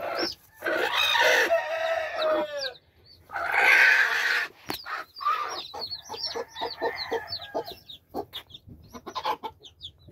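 A broody game hen clucks and calls among her peeping chicks at close range, with bursts of cackling, soft clucks and scattered high chirps on a farm floor.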